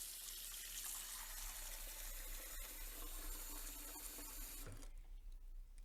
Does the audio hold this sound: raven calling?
no